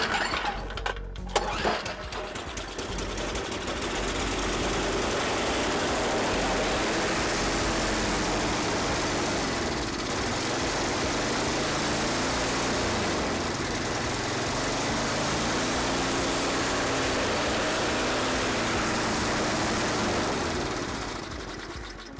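A Toro 521 snowblower engine pulls into life and settles into a steady, loud, continuous running drone with a slight rhythmic wobble, alone without talk.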